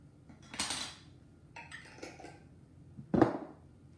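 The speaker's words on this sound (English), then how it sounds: "Mix it up" A spoon clinks and scrapes against a bowl while a dip with lemon dill seasoning is mixed, in a few separate bursts with quiet gaps between them.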